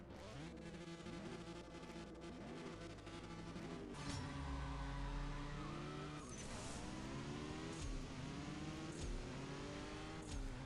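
Saline S7 Twin Turbo race car in CSR Racing 2 roaring at full throttle, engine pitch climbing through repeated gear shifts with tire squeal, loud and continuous with no talking.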